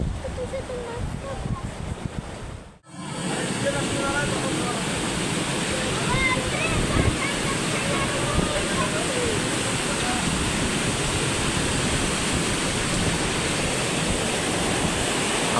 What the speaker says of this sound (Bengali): আমরা যত উঁচুতে উঠছি জলের দেখুন গতিবেগটা কিন্তু আস্তে আস্তে বেড়ে যাচ্ছে, জলের স্পিড অনেকটাই বেড়ে যাচ্ছে।